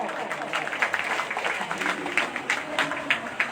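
Audience applause at an award ceremony honouring a teacher, during the opening of a paramedical and vocational training institute in Kankinara: a steady crowd clapping with sharp repeated hand claps over a broad, moderately loud patter, voices faintly present beneath.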